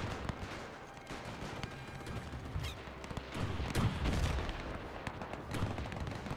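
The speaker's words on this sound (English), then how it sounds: "So only 2 machine guns are firing over here, which is sad." World War I machine guns firing in the strategy game Between Empires, a dense rattling stream of distant automatic fire mixed with booming artillery, steady and continuous without speech.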